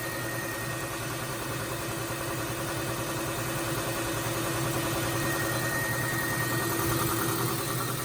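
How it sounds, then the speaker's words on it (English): A 7.5 horsepower air compressor running in a home garage beside a media blasting cabinet, a loud steady mechanical drone with a constant hum that holds unbroken throughout, with no talk. "Alright, compressor's on now."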